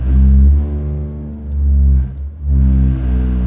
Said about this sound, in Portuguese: Esse barulho que vocês estão escutando é o sistema de freio fazendo atuação.